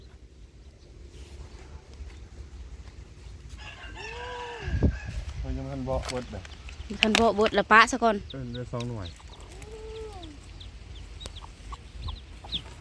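Chickens on a farm cluck and crow close by in a series of short calls and drawn-out crows, with people talking over and between them.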